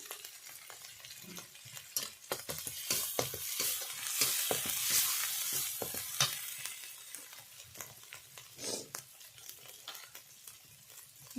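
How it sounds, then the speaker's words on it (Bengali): Chilli paste and turmeric paste frying in oil with river fish for a spicy oil curry, a steady close sizzle broken by repeated scraping and stirring strokes, with no talking. "ভালো করে মশলাটা আমি কষিয়ে নেব তারপরে দিয়ে দিচ্ছি হলুদ বাটা"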